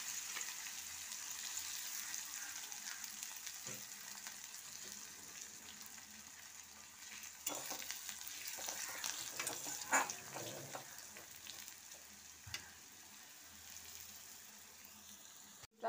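Chopped onions fry in oil with green and black cardamom, a soft steady sizzle with occasional stirring clatter and a few brief knocks, fairly quiet and without talk.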